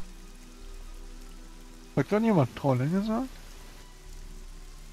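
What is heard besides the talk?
rain in a fantasy audio drama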